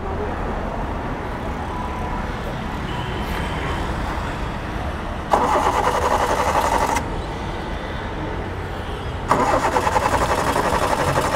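The starter motor of a pure-CNG car cranks twice on a busy roadway, each burst a harsh, whirring grind lasting a second or two without the engine catching, set against constant traffic rumble.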